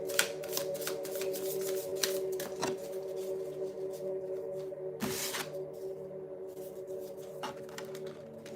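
Tarot cards shuffled by hand during a zodiac reading, a soft continuous riffling and rustling with a few sharper slaps, quiet and close against a steady background hum.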